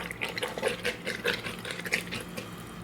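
Vinegar pours over beef in a home kitchen while making an Italian beef sandwich, a continuous wet splashing and trickling with small clinks, close by and moderately loud, with no talk.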